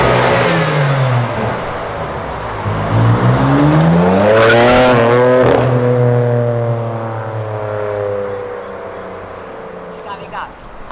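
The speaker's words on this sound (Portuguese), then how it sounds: "esse take da M3 acelerando, cortando de giro do outro lado" A BMW M3 engine revs hard, rising to a high, raspy scream and falling, then settling into a lower drone; close and loud.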